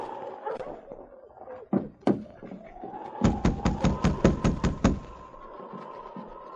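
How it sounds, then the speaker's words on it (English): Knocking on a wooden cabin door as a radio drama sound effect: two single knocks, then a rapid, louder run of about eight knocks, close and sharp, with a low murmur underneath. "getting no response to his knock, he tried again a little harder"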